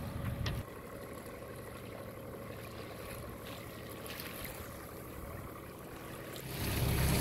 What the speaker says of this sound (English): Now we are motoring over to Harriet Bay.